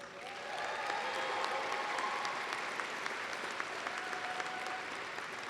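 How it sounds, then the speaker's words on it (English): Law school graduates clapping for themselves at a 2016 commencement ceremony: a large crowd's applause swells in after a quiet start and holds steady and dense, with scattered louder claps and a faint whistle or cheer. "Give yourselves a round of applause"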